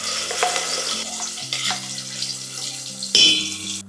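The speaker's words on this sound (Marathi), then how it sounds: "तेल टाकून झालं की आपल्याला हे सगळं वाटण परतवण्यासाठी यामध्ये टाकून घ्यायचंय." Spice paste (vatan) sautéing in hot oil in a pot, with a steady close sizzle and stirring scrapes that swell with a louder burst near the end.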